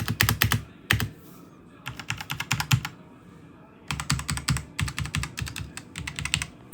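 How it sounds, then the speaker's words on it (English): Typing on a Newman GM 326 mechanical keyboard with red switches, fast clattering bursts of keystrokes close to the mic, broken by short pauses between runs. "The keyboard, which I got the Newman GM 326 mechanical keyboard. It has red switches and this is how it sounds like."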